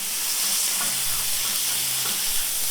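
A toasted smash burger sizzles and spits on a hot griddle, with a steady, close frying hiss throughout and small crackles of escaping juices.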